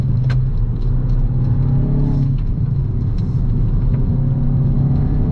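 A 2025 Hyundai i20 N hot hatch accelerates at full power, its engine a loud, steady, droning rumble heard from inside the cabin, rising slightly in pitch with no voices.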